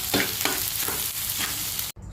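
Liver macaroni fries in a pan, a steady crackling sizzle with several rhythmic stirring strokes, cut off abruptly just before the end.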